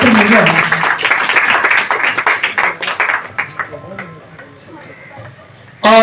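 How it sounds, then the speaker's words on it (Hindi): Audience clapping loudly for a child receiving a certificate at a foundation day and Hindi Day school event: dense applause that thins out over a few seconds, then a fresh burst of clapping right at the end. "बच्चे जोरदार ताली आप लोग बजाते रहें"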